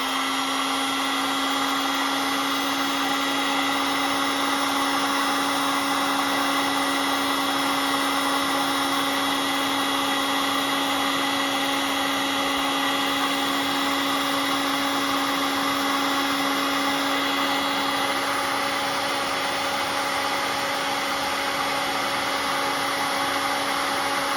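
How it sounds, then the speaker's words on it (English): A heat gun blows hot air onto heat-shrink tubing while repairing wiring on a ceramic board, giving a loud, steady whirring roar with a constant motor hum that runs unchanged throughout, close up and alone. "now we're actually going to take my heat gun here"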